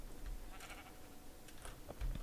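A sheep in Minecraft bleats in short, nasal calls, two or three brief bleats spread across a couple of seconds at moderate loudness over quiet background ambience.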